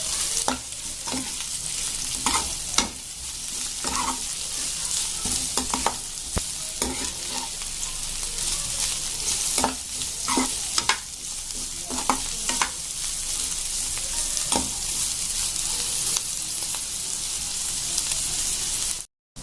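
Sliced bitter gourd (karela) fries in a pan, a continuous close hiss and sizzle broken by regular scraping stirs of a spatula, with no voices over it.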